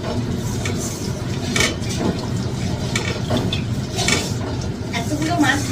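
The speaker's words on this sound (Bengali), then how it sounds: "গ্যাসের ফ্লেমটা বাড়িয়ে দিয়ে তেলটা একটু ভালো করে একটু নাড়াচাড়া করে নেব।" Utensils clink and scrape in a pan as mustard oil is stirred over a raised gas flame, a steady busy clatter with some talk in the background.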